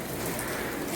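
Steady rain falling outside, a dense even hiss of drops on surfaces with no pauses, close and constant for a brief moment.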